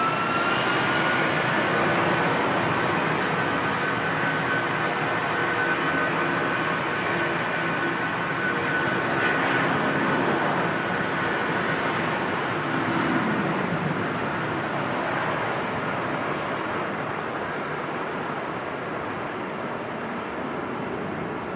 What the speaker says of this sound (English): departing Manchester Airport, 23 left, heading off to Zakynthos in Greece